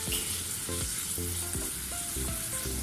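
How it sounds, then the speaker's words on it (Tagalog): Garlic sizzles and fries in a pan with a steady, close crackle, while a utensil taps and scrapes against the pan at intervals. "Tapos naglagay na ako ng garlic."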